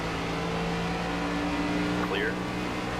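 An ARCA race car engine in the NASCAR 25 racing game drones at steady revs throughout, a continuous mid-loud hum with a brief pitch sweep near the end as the car runs on track.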